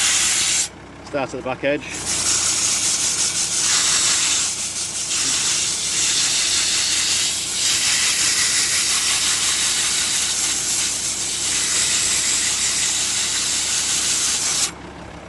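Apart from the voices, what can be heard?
emery cloth rubbing rust off Volvo C30 brake disc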